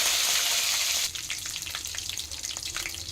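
Curry leaves dropped into hot oil with urad dal and mustard seeds, starting as a loud hissing burst that drops after a second into a steady crackling sizzle with sharp pops, close by.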